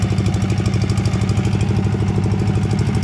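Diesel engine of a rice harvesting machine running steadily at close range, a loud, continuous pulsing rumble with a fast regular chug throughout, no talk over it.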